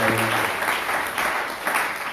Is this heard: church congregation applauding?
yes